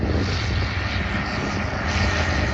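A Zenith light airplane with a Viking engine departs runway 8 at Las Cruces International Airport, its propeller engine roaring loud and close in a steady, full-throttle drone with no voices.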